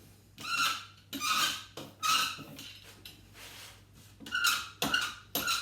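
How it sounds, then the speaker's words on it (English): A lino printing roller inking a plate squeaks again and again: harsh, rubbing squeals come in repeated strokes of about a second each, close and fairly loud, with a low steady hum underneath. "it makes us know that I'm doing printing when I can hear the horrible squeak"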